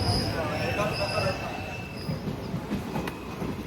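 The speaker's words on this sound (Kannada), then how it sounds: "ಶ್ರೀ ಶಾರದಾ ನಗರ ರೈಲ್ವೆ ಸ್ಟೇಷನ್ನಿಗೆ ಗಾಡಿ ಬಂತೀಗ" A train pulls into Shri Sharada Nagar railway station with a constant low rumble, thin wheel squeals and tonal whines layered over the rolling noise.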